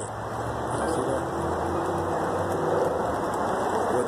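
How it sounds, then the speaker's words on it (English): Steady rain falling outdoors in the dark at night in Nederland, a dense continuous hiss with no breaks, with faint traffic rumble underneath. "It's raining out here."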